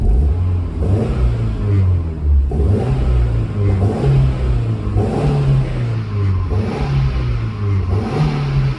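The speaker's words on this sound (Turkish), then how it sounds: "Egzozun ses tonları güzel." The engine and exhaust of a Tigra idle steadily nearby, broken by several short, sharp revs that rise and fall at a fairly even pace, loud and alone with no talking.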